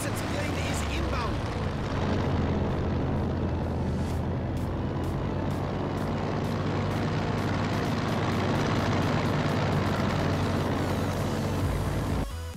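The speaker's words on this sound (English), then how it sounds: "Friendly reconnaissance plane is inbound." Reconnaissance plane flying over a battlefield in Company of Heroes 2, a steady, loud propeller-engine drone held throughout under dense game noise and a voice talking.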